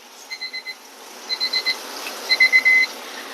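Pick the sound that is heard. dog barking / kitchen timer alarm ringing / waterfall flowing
kitchen timer alarm ringing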